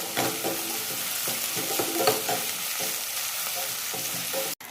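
Dried red chilies and asafoetida sizzle and crackle in hot oil as a tempering for ridge gourd kulambu, with a spoon stirring and scraping the pan, close and steady throughout.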